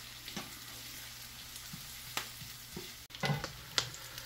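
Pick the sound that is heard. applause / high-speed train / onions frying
onions frying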